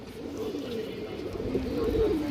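Pet pigeons in a loft, including khaki and silver birds, give soft, low, continuous cooing close by, with overlapping throaty calls rising slightly toward the end.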